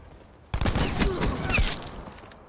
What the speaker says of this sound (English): This is the new auto shotty.